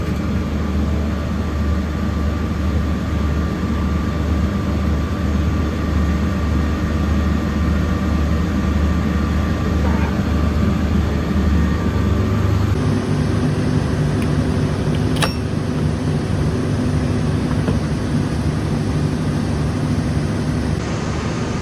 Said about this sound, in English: Okay, so the engine's running pretty nicely now.